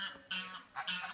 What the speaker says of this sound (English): I don't know what the ducks are doing, but they are making noises.